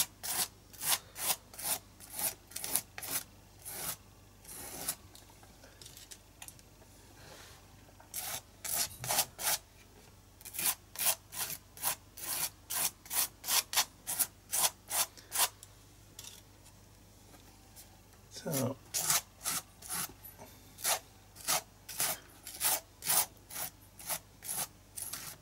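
A spatula drags repeatedly across texture paste on an art journal page, making close, dry rasping scrapes in quick rhythmic strokes with brief pauses between bursts.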